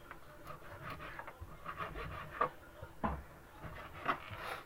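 A knife slices through a fish fillet with faint, soft scraping and rubbing strokes, several short passes close by but quiet, with no talking.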